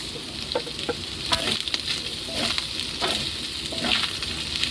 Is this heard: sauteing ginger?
yes